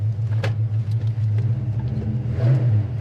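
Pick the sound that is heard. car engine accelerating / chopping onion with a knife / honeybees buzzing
car engine accelerating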